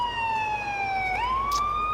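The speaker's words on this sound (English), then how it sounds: "I'm going to deactivate my siren." A Florida Highway Patrol 2015 Charger in GTA 4 LCPDFR wails its police siren, a loud, steady tone that slowly falls, then sweeps upward again, heard close and continuous.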